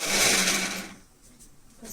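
Kitchen mixer grinder whirring loudly at high speed for about a second, then cutting off and leaving quiet room noise.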